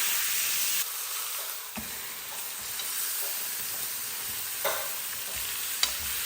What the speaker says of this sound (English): I just salted the pork chops and I'm just gonna stick them right in there. Sear them on both sides.